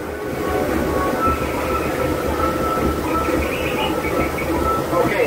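A Disneyland train rolls along with a continuous rumbling clatter of wheels on track and faint high squeals, loud and close throughout as though heard from on board.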